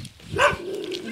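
A dog gives a single short bark outdoors while on a walk, fairly close and moderately loud, with faint background noise around it.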